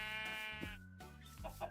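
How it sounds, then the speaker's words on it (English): A Minecraft sheep in the Create Mod gives two or three clear, close bleats in a row, each one a wavering, nasal cry with no talking around it. "hello sheep"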